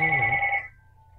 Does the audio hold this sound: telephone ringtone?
yes